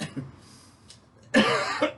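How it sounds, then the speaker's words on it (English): A person coughs sharply during an outdoor home workout, a single harsh burst with a smaller follow-up, preceded by quiet breathing. "That cough."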